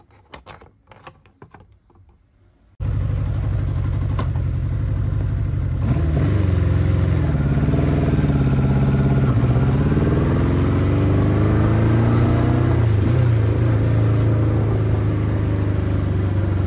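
A Honda CB550Four motorcycle engine starts up after a few quiet knocks, then runs steadily and loud up close, rising as the bike rides off.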